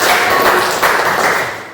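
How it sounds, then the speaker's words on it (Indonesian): A classroom of students claps together during a religious education lesson, a thick, continuous burst of hand-clapping, loud and close, for under two seconds. "Tepuk tangan dulu buat"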